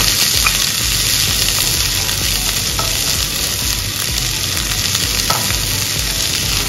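Small shallots frying in masala for a mushroom idiyirachi, a loud, dense, continuous sizzle close up, with a few faint utensil touches.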